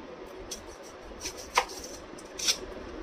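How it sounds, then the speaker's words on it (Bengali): A knife slices thin onion pieces on a board for lachha onion paratha, a few quiet, separate cuts landing irregularly against soft background noise. "পেঁয়াজগুলোকে কিন্তু পাতলা সাইজ করে কাটতে হবে, মোটা মোটা করে কাটলে কিন্তু হবে না।"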